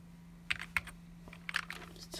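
Someone types on an iMac G3 keyboard with a few sparse, light key clicks at an uneven pace, quiet and close over a steady low hum.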